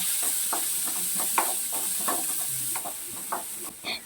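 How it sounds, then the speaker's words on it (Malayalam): Onion sautéing in hot coconut oil with garlic and ginger, a soft continuous hiss with repeated light stirring scrapes, fairly quiet and steady. "സവാള ഒന്ന് ചേർത്ത് നന്നായിട്ടൊന്ന് വഴറ്റിയെടുക്കുന്നുണ്ട് കേട്ടോ"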